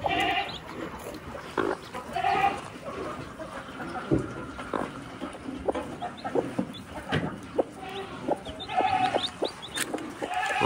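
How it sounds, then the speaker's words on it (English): A mother hen with a brood of four small chicks on a farm, giving soft clucks and short calls amid faint peeping and other farmyard animal sounds, moderately distant, with no talking. "this old mama hen hatched out a set of babies"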